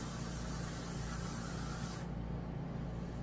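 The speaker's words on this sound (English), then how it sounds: "hold this hair in place where I want it to stay and just go to town spraying" Hairspray hisses from an aerosol can onto a styled high-top fade, one continuous close, loud spray burst that cuts off partway and leaves a duller hiss.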